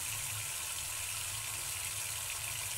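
A leaking water tap runs in a steady, unbroken hiss of flowing water, faint and close, with no voices over it.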